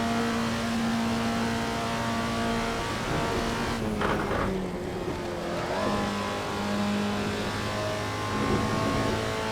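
A Toyota FR-S engine hums steadily in Assetto Corsa, a sustained drone that revs briefly and rises in pitch before settling back to a constant tone.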